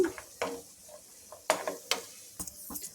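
Cashews fry in a pan for carrot halwa, giving a soft sizzle with stirring scrapes and a few sharp clinks of a spoon against the pan, close by and with no voice.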